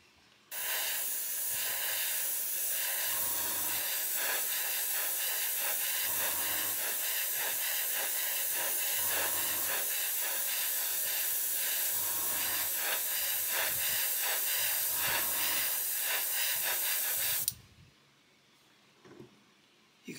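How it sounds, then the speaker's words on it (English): A steady, loud hiss of metallic brass spray paint going over chrome on a plastic model runs unbroken for about seventeen seconds, then cuts off abruptly into near silence with a faint rustle. "But if I spray some over this chrome"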